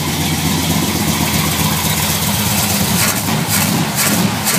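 A Chevrolet Chevelle SS engine idles after sitting unused for months, a loud, steady low rumble close by with a slight roughness, alone without talk.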